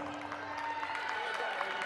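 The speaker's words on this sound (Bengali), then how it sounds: "জোরে করতালি রেফারির পুরস্কার।" Loud applause from a crowd at a university mathematics department sports and lottery closing ceremony, greeting a referee's award. The clapping forms a steady, dense wash throughout, with voices mixed in.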